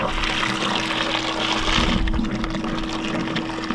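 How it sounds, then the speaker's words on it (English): A Hydro X VacPac pump pushes water and air through a hose, making a steady gushing, sputtering rush that changes and softens partway through, over a constant low mechanical hum. "You can see there's a lot of air that came out of the hose, and some of that air came out of the pump"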